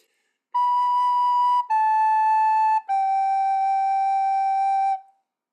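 Recorder notes on G played as sustained whole notes, three clean steady tones in a row with brief breaks between them, near and clear with no voice.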